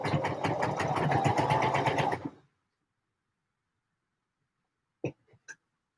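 Sewing machine stitching a seam on a McCalls 7537 garment, a steady, close and fairly loud rapid pulsing run lasting about two seconds, then stopping, followed by silence and a few faint clicks.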